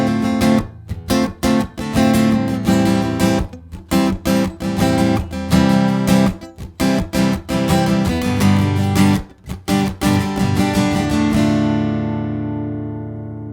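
Acoustic guitar strums the chords of a song in a brisk, rhythmic pattern of sharp repeated strokes, close and clear, ending with a ringing chord that fades out.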